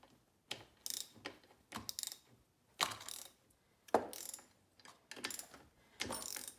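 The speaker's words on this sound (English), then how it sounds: "first thing you have to do is loosen these three nuts here" A wrench loosening the bar nuts on a chainsaw, heard as short metallic ratcheting clicks in repeated bursts separated by pauses, close and fairly quiet.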